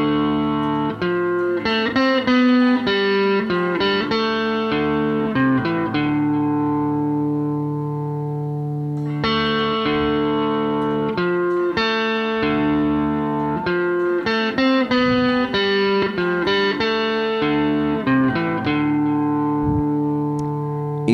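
Guitar playing the intro of a melody, a short melodic phrase picked twice with a pause between, clear and close with a slightly effected, reverberant tone and no talking.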